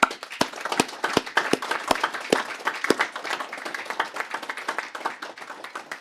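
A small group in a council meeting gives a round of applause: sparse, fairly quiet clapping with a few sharp individual claps standing out, steady for several seconds with no talk.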